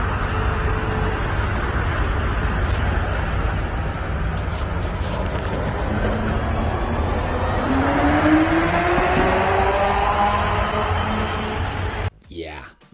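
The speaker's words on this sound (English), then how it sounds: "just take a look at the acceleration and the sound when it takes off." A Tesla Semi electric truck accelerates away with a faint motor whine that climbs steadily in pitch, heard through constant heavy wind rumble before cutting off abruptly near the end.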